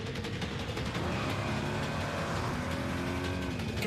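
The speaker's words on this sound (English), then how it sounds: "Good thing this Nissan Rogue is a standard turbocharged engine" Turbocharged engine of a 2022 Nissan Rogue accelerating hard, a steady rising roar with a faint whine over constant road rumble, loud and close with no talk.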